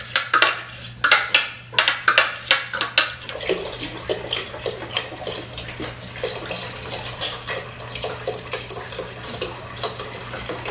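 Chicken broth and water pour into a pot of butternut squash soup, starting with a run of sharp splashing glugs and settling into a steady wet splatter, close, with a low hum underneath.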